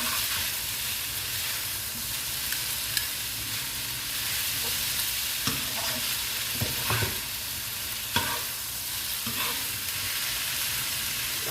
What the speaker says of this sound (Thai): จะผัดให้เส้นเรานุ่มขนาดไหนก็จัดไปเลยค่ะท่านผู้ชม